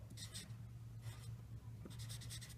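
Marker or chalk writing on a board during a maths lesson, a series of quick scratchy strokes in short bursts with pauses between, close and fairly quiet over a low steady hum.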